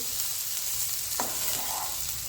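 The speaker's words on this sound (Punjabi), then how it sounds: "ਆਪਾਂ ਜਿਹੜੇ ਪਿਆਜ਼ ਨੇ ਭੁੰਨ ਲੈਣੇ ਨੇ" Onions frying in a pan for a quick homemade breakfast dish, giving a steady, moderately loud sizzle with a brief stir or scrape partway through and no talking.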